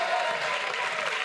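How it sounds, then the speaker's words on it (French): Studio audience on a French TV set applauds a sheep brought onstage, a short burst of dense, steady clapping, moderately distant. "Je vous demande d'applaudir le mouton qui vient d'arriver donc en plateau."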